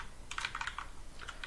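Faint, quick keystrokes on a computer keyboard as a host name is entered, a short run of light clicks followed by a few more taps after a brief pause.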